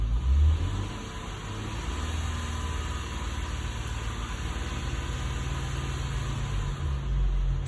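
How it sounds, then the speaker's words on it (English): A car engine revs under load with electrical accessories switched on, giving a steady, close mechanical drone that rises in bursts at the start and end. "And now he wants us to rev it again with this load on the engine"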